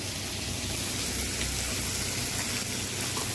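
Big chunks of onion fry in hot oil with a loud, even, rain-like hiss that holds steady from start to finish, with no talk.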